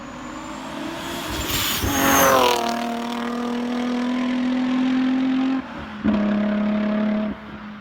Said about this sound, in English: G35 Coupe rev up